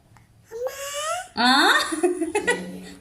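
A voice imitates a cat, with a rising meow-like cry followed by a longer, louder wavering mew, close and clear.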